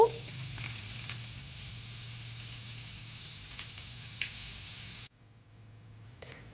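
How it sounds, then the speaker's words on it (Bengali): Parboiled cauliflower frying in a pan with a little oil, giving a soft, steady sizzle with a few faint clicks, cutting off near the end. "এখন একটা প্যানে আমি হালকা তেল দিয়ে এগুলো কিছুক্ষণ ভেজে নেব।"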